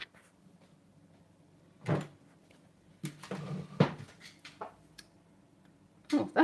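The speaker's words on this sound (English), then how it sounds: "Oh, that chair just made a noise." An indoor chair creaks and knocks as it is turned around: a few short, fairly close creaks spread across a quiet room, with a longer cluster in the middle and another near the end.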